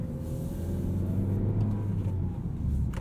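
Low, steady engine drone and road rumble inside a 2019 Toyota Corolla XSE hatchback with a six-speed manual, cruising smoothly at moderate speed, with a faint rising whir near the end and no talking.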